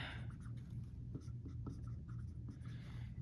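Chalk or marker writing math notation on a board during an algebra lecture on rings: quiet scratching strokes and taps in short bursts, with no talking.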